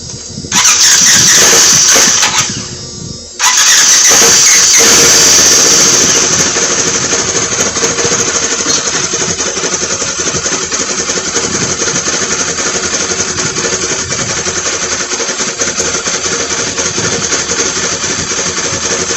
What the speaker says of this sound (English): I'm gonna try to start it.